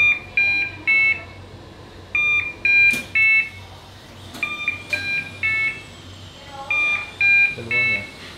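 Repeated short electronic alarm beeps come in clustered bursts of three or four, loud and close, from a kitchen setting where a baking timer or alarm is being switched off, with ongoing talk around them.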